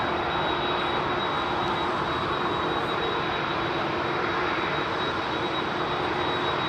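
KLM 737 jet engines at Heathrow hold a loud, steady roar with a constant high whine, continuous and unbroken throughout.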